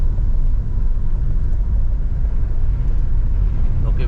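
A Hyundai Creta 1.6 SX petrol automatic climbs a steep, winding mountain road, its engine a steady low rumble heard from inside the cabin throughout, with no talk.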